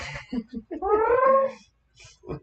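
A cat lets out a drawn-out, wavering meow, loud and close, with brief softer vocal sounds before and after it.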